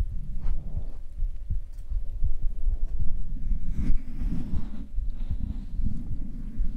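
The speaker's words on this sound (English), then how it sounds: "I don't think I've ever really shared my heartbeat with anyone." An amplified human heartbeat throbs close and loud, its low thumps blurred by rumbling, muffled handling noise and a faint hum.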